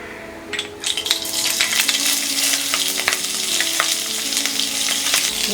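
Cumin seeds and green chilies hitting hot oil in a pan for an aloo hara chana sabji, a sudden loud sizzle that settles into steady crackling frying, with a few metallic scrapes and taps of a stirring utensil.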